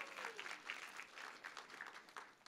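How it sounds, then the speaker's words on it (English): Audience applause for a team being introduced at a toy fair presentation, a steady patter of many clapping hands at moderate distance, fairly quiet and continuous throughout. "applause is welcome"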